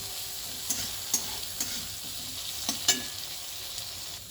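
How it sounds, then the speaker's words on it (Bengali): Cut eggplant frying with fried onion and garlic gives a soft, constant sizzle, broken by several sharp spatula taps against the pan as it is stirred. "এবার বেগুন দিয়ে এই পেঁয়াজ রসুন একসঙ্গে ভালোভাবে ভাজবো।"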